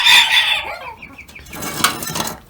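Chickens in a coop of sick hens cluck loudly and close by, with a burst of calls at the start followed by a scatter of shorter clucks and squawks.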